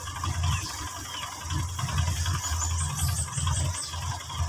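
Old car's engine idling unevenly with one dead spark plug, a close, uneven low chugging misfire with light mechanical rattle throughout.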